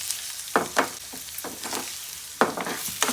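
Curry leaves and ginger hit hot oil for Andhra-style curd rice, giving a steady hiss broken by several sharp spattering pops and crackles at close range.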